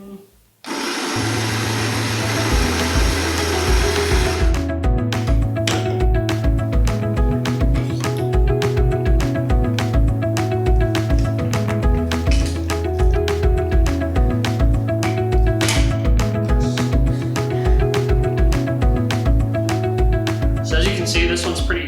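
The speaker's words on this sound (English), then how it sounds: "This is a common countertop grinder that uses stainless steel burrs to grind your coffee." A countertop coffee grinder with stainless steel burrs grinds coffee, a loud, close, continuous whirring drone with a pulsing rhythm and rattling beans, running for about twenty seconds.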